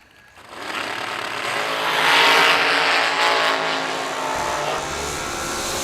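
Drag racing cars at an end-of-year drag racing event, launching down the strip in a loud roaring engine blast that swells after a quiet start, peaks, then holds a sustained, slightly fading drone.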